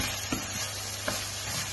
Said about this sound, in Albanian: E përzijem me mishin bashk